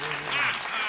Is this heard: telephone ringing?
no